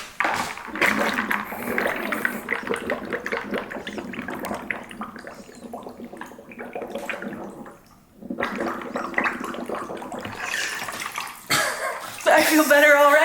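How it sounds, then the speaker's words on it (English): Bubbling, gurgling bursts of air blown out with the face plunged into a bowl of ice water, broken by a brief pause, gasps and splashing as the head comes up, with people talking around it. "I'm going to blow bubbles."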